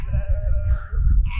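A small young lamb bleats in a wavering, sustained cry beside a low rumble of wind or movement, during a livestock migration journey near Balıklıgöl in eastern Turkey.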